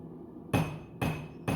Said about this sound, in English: when I'm using the cross peen to draw it out, or the straight peen